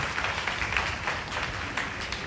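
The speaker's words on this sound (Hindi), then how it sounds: "ताली बजाकर प्रभु को महिमा" A church congregation at a Full Gospel Church in Barwadda, Dhanbad, claps together in praise, a dense, continuous patter of many hands at moderate distance.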